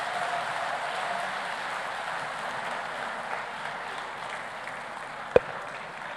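Audience applause after a Deputy Prime Minister's closing speech at a summit closing ceremony in Dar es Salaam, Tanzania, a soft, even spread of distant clapping across a large hall, broken near the end by one sharp knock.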